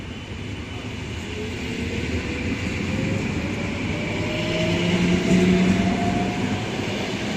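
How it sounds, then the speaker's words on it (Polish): A train pulls out of Łódź Retkinia station, a loud, steady rumble of wheels on the tracks with a rising hum that swells toward the middle and holds without voices. "Pociągu na torach."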